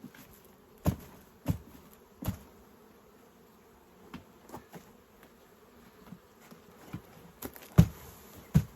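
Honeybees buzz quietly in the background while sharp knocks and taps repeat irregularly, some loud and close, as bees are shaken out before a reed nucleus hive.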